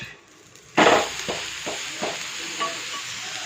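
A carrot, cabbage and onion uttapam crackles and sizzles in hot oil on a pan; a loud burst comes as it is flipped, followed by a steady fry with a few soft scraping knocks.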